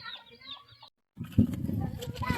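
Hens cluck and chatter close by in short, uneven bursts, with a brief pause before louder clucking resumes.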